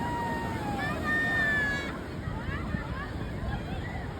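Sea waves wash onto the beach at Puri in a steady, rushing roar with wind buffeting the microphone. Voices and faint whistle-like tones rise over the surf early on.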